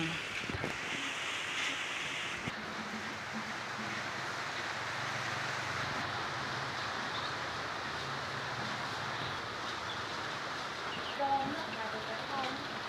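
Steady rain falls outdoors beside a cooking area as coconut milk with Thai melon is prepared, a continuous broadband wash of drops that persists throughout, with a voice talking briefly near the start.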